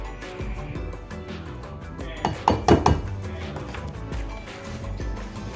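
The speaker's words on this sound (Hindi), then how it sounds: "और इसको पहले स्लो पे ऐसे मिक्स करेंगे।" Flour being mixed slowly into cake rusk batter in a bowl, with repeated clinks and taps of the utensil against the bowl and a brief cluster of louder knocks midway.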